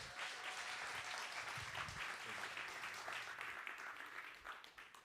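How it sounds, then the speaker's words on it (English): Sustained audience applause at a business pitch night for a beef livestock contestant, a full, even roar of clapping that holds steady and tapers slightly at the end. "Give them a round of applause."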